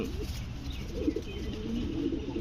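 Soft, low pigeon cooing repeats in a pen or loft, close but quiet, running steadily under a faint background hiss.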